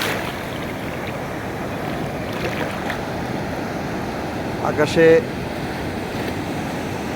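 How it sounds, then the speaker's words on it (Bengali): The sea roars at Cox's Bazar beach in a continuous loud wash of surf and wind noise, with someone speaking briefly near the end over the steady rumble. "নিশ্চয়ই সমুদ্রের গর্জন শুনতে পাচ্ছেন।"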